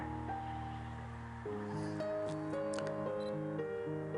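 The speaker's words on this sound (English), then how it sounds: "tap the shutter button to make sure" A few sharp camera shutter clicks, taken outdoors while photographing flowers with an off-camera flash, sound up close over a steady tonal hum and a soft background rustle.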